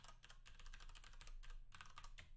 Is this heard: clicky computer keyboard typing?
yes